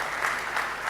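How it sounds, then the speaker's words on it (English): A brief burst of audience applause at a hacker conference talk, steady clapping filling the room for about a second. "Give him an applause."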